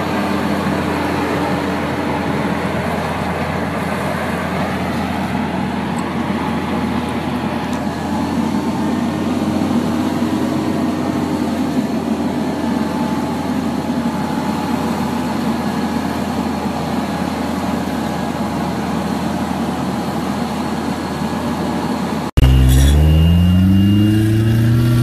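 An American Freedom Honk amphibious car drives steadily with a continuous engine drone and road or water rumble, moderately loud and constant, ending in a sudden louder burst at the close.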